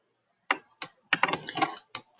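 Keys on a computer keyboard clatter in short bursts, a few single taps and then a quick run of strokes, close and fairly quiet with no talking.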